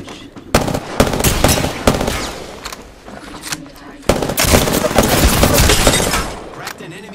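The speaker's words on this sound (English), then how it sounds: "The enemies are shooting at me." Enemies open fire in Apex Legends: two long bursts of rapid automatic gunfire, loud and close, each lasting a couple of seconds with a brief lull between them.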